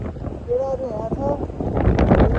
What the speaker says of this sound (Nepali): एकदम हावा चल्छ यार